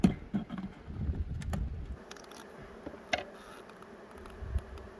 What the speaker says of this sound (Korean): 지금은 꽃이 많지 않기 때문에 벌이 달겨드는 것을 하여간 조, 조심해야 합니다